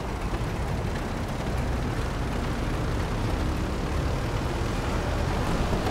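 A large Mogul aircraft in GTA Online roars with a dense, continuous broadband engine rumble, loud and unbroken, with no voices.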